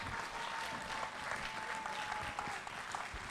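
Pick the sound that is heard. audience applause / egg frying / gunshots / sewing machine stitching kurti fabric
audience applause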